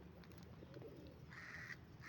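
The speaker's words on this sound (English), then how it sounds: "This is all the birds." Birds, including ducks and pigeons, flock around bread being scattered in a community lake park, with soft quacks and coos over a steady background hush, fairly faint and at some distance.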